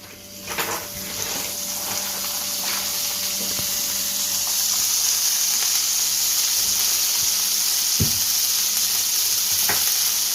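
Butter melting in a hot frying pan for a cheese omelette, giving a steady close sizzle and hiss throughout with occasional light clicks from stirring, no talking.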